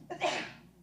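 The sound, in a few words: sneeze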